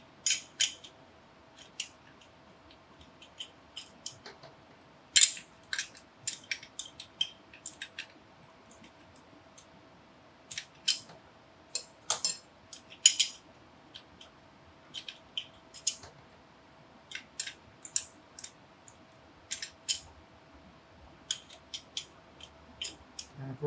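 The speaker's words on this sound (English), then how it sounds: "So you just stack all those steel plates in there, rounded side out, followed by a friction plate" Steel and friction clutch plates for a Royal Enfield 650 twin being stacked into the clutch basket, a long series of light metallic clicks and ticks at irregular intervals, close and quiet with no talk.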